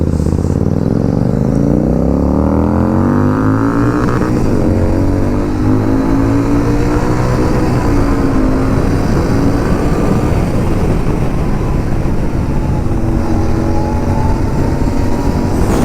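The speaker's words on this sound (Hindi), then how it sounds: "पॉप साउंड निकल रहा है भाई उसकी बाइक से, पॉपअप्स छोड़ रहा है।" Sportbike engine roaring under a bridge on a Sunday group ride, with harmonic sweeps of revving and pops from the exhaust; loud and continuous, passing close by amid traffic noise.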